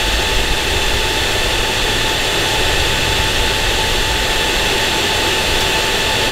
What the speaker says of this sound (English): That's the sound of your radiator fan coming on